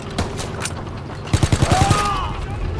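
A battle scene in the video game Call of Duty: WW2 carries a quick burst of about seven sharp, evenly spaced gunshots. The burst sits midway through, with scattered thuds and battlefield ambience around it.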